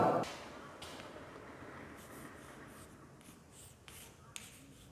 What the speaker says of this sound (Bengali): আমি ব্ল্যাকবোর্ডে সৃজনশীল প্রশ্নটা লিখছি